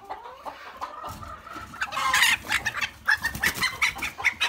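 A small Serama rooster clucks close by, a series of short throaty clucks and chatter growing busier and more rhythmic toward the end, with no talk over it.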